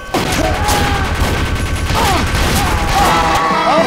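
Sustained rapid gunfire from a minigun in a first-person shooter video game, a dense continuous loud roar with mechanical whirring lasting throughout, with faint voice traces underneath.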